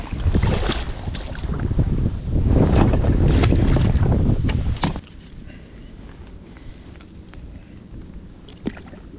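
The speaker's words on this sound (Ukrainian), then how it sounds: "Вітер дує, не знаю як якість звуку" Loud, gusty wind rumbling and buffeting against the microphone for about five seconds while fishing for pike, then dropping to a quieter background with faint splashing.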